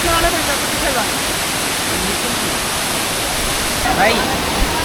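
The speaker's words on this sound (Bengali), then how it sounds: "এই ঝর্ণাটা হচ্ছে দ্বিতীয় স্টেপ" Steady broadband roar of the Saingpra jungle waterfall fills the scene, constant and close, with faint voices briefly rising over it.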